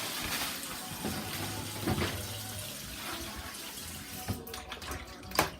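Okra being washed under running water in a pot, a faint trickle with sloshing and splashes, occasional knocks and a louder splash near the end.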